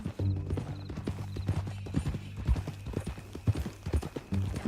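Horse hooves clip-clop in an uneven walking rhythm within the Western video game Red Dead Redemption, close and fairly loud, with a low steady musical drone beneath and occasional faint talk.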